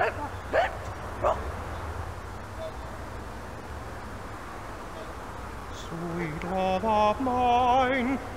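Neighborhood dog barking in Disney's 101 Dalmatians Animated Storybook PC game from 1997: a few sharp yips early, then a cartoonish voiced barking and yapping with musical tones near the end, loud and close.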